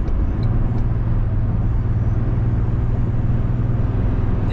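Pickup truck cabin at highway speed around 60 mph while accelerating, a steady low engine drone and road roar throughout, even and unbroken.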